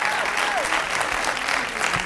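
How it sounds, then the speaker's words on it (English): Studio audience at a dating game show breaks into loud, continuous applause, many hands clapping densely and evenly throughout with a faint hint of voices underneath. "Give him a round of applause."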